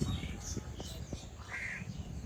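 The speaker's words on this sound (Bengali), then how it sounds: "এই পাখিগুলো মাছ আহরণের জন্য জালের পাশে ভিড় জমাচ্ছে।" On an island shore, birds crowd beside fishing nets and give a few short, scattered caws, fairly faint over a low background rumble.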